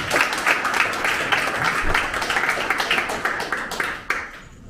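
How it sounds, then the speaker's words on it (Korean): An audience at an Incheon campaign committee's closing ceremony for the 20th presidential election applauds a speaker coming up, a dense, fairly loud clapping that continues the whole time, mixed with a hubbub of voices. "힘찬 박수로 맞이해 주시기 바랍니다"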